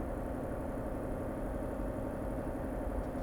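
Noisy truck engine in a trucking video game chugs steadily like a combustion-driven sewing machine, an even rumbling drone with no voices.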